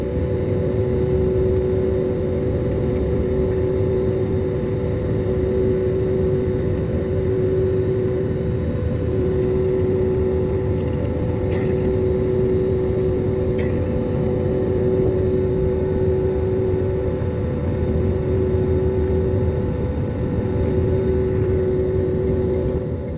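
Passenger airplane taking off, heard from inside the cabin: a loud, steady engine roar with a sustained whine holding constant throughout, broad rumbling noise underneath and a couple of faint clicks, no speech.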